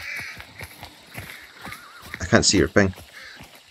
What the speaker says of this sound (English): Crows here.